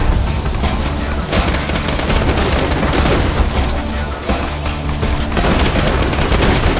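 Dense, loud video-game gunfire from Borderlands 2, rapid bursts of shots and booms rattling continuously without a break, close and overwhelming.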